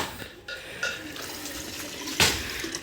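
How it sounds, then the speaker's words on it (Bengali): Water pours into the pipe of a restored, previously abandoned tubewell to prime it. The flow is a steady, close trickling and splashing throughout, with a brief louder gush near the end. "তবে এখন এইভাবে দেখেন পানি দিবেন"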